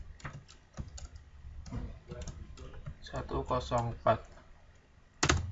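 DOS commands are typed on a computer keyboard in short bursts of clicking keystrokes, heard close and mixed in with a person talking throughout, ending with a sharper key press.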